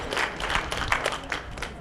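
Audience at a school district town hall meeting applauding, a short burst of moderate, scattered clapping from a crowd that fades slightly toward the end.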